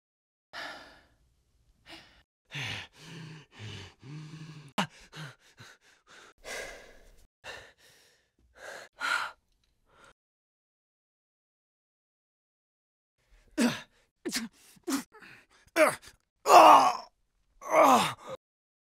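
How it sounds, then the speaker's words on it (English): Recorded grunts, breaths and sighs from ADR and loop group sessions, a string of separate short vocal exhalations and groans alone against silence, with a long gap before a louder final cluster. "filling a scene with grunts, breaths, or any other expression"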